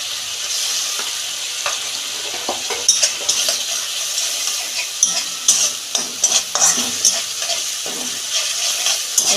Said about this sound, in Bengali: এটাই ভালো করে কষতে নেব